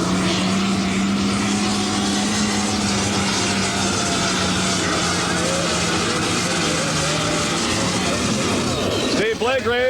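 A 1989 NTPA 9500 Super Stock pulling tractor at a Hildreth, Nebraska tractor pull revs its engine in a loud, steady, roaring drone that swells toward the end.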